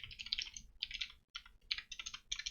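Fast, steady typing on a computer keyboard while writing C code, a continuous patter of close key clicks with only brief pauses, no voices.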